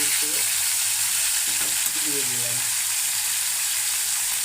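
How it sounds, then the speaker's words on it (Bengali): Fish pieces fry in hot oil for a home-cooked fish curry, a loud, constant close sizzle and spatter running the whole time, with a brief voice over it. "এই করে করে সব মাছ ভালো করে ভেজে নিই"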